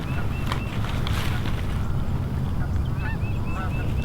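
Geese honk overhead during an early-season hunt over a freshly cut corn field, with repeated calls rising and falling above a loud, steady wind-like rumble and no talking.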